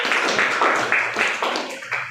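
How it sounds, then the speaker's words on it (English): Applause for a schoolgirl at a school event: a dense, steady patter of many hands clapping together, fairly close and continuous throughout, with no voices over it. "Please give me a round of applause."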